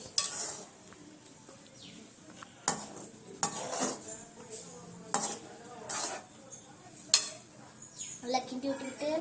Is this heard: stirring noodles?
yes